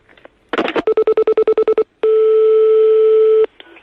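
A telephone line after hanging up plays a short burst of dialing noise, then about ten rapid identical beeps, followed by one long steady tone lasting over a second, loud and close.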